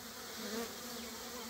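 A dense, steady buzzing hum rises from a strong swarm of Melipona flavolineata stingless bees, the yellow uruçu, being split in winter; the drone is continuous and close, with no talk over it.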